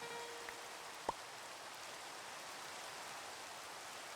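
Steady rain hisses without a break in the Minecraft modpack Sevtech Ages, with one faint short tone near the start and no voices.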